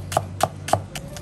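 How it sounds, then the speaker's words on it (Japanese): A knife slices red onions and onions thinly on a board, giving five crisp, evenly spaced cuts close up with a low background hum. "アーリーレッドと玉ねぎは薄くスライスします。"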